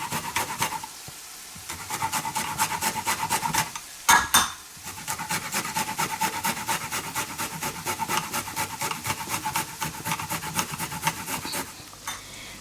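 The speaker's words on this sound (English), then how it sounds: "For the gravy, I have taken this size of a ginger and I'm going to grate it." Fresh ginger grated by hand for a fish ball curry gravy: quick, regular rasping strokes close to the mic, with a couple of brief clunks partway through.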